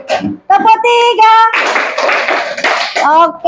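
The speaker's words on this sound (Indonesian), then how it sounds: "Tepuk tangan dulu semuanya." Children clapping together in a classroom, a broad burst of hand claps lasting about two seconds amid lively kid voices and chanting.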